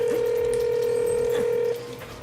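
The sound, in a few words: phone dialing tones in Ratchet and Clank video game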